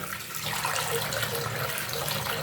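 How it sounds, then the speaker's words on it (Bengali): Lentils being washed by hand in a bowl of water for sajna dal, a steady close swishing and splashing of water with a running-tap quality throughout, no voices. "তো আমি ডালটাকে ভালো করে ধুয়ে নিচ্ছি"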